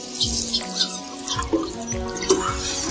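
Water splashing and trickling onto freshly transplanted greens in an organic garden, close and fairly quiet, with irregular splashes and drips over a few seconds and no talk.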